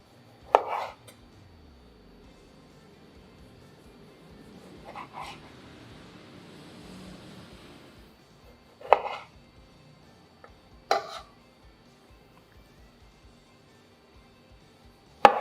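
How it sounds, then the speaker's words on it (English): A knife slices through cherry tomatoes on a cutting board in a handful of sharp, separate cuts with long quiet gaps between them, over a faint background hum. No talking. "let's cut 3 cherry tomatoes"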